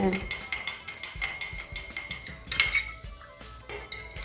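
A metal spoon stirs honey and curd into a cup of green tea, making rapid, rhythmic clinks against the cup. The sound is close and bright.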